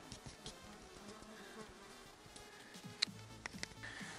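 Insects buzzing in a summer forest during blueberry picking, with horseflies and mosquitoes about; a steady close buzz and hum with faint rustling and a few sharp taps, no talk.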